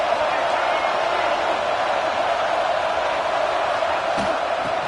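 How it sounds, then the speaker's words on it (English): Dense, continuous roar of a large college football stadium crowd at an LSU Tigers versus Michigan Wolverines national championship game, steady and loud throughout, with occasional faint thumps. "Listen to the crowd energy here in the early going."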